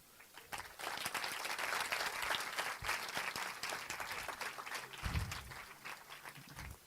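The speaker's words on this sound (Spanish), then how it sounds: "Un fuerte aplauso." A room full of people claps loudly and steadily for several seconds, the applause swelling early and then tapering off.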